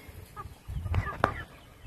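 Leghorn hens and young roosters on a farm give a few quiet clucks and one sharp squawk, faint against a low background.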